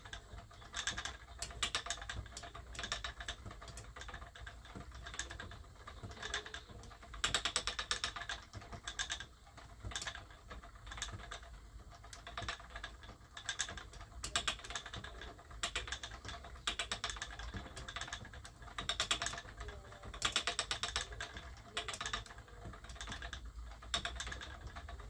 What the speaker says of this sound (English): Just love the chatter that comes from this wheel.